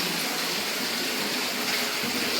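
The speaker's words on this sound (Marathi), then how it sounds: "मस्त पाणी येत आहे थंडगार" Steady, continuous gush of cold water pouring from a spout at a temple in Tuljapur, a full, hissing flow close by with no voices.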